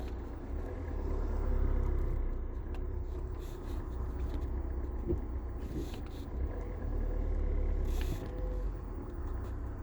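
A learner driver's car pulling away and driving, heard from inside as a steady low engine and road rumble that swells and eases, with a few brief hissing bursts over the drone.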